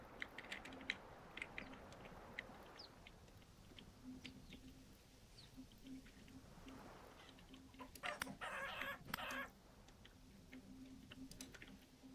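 Chickens cluck faintly in the survival video game Vintage Story, with scattered soft clucks and ticks over a low ambient bed and a brief louder burst midway.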